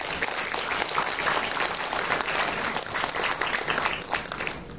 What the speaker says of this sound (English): So we got to give them a round of applause as well.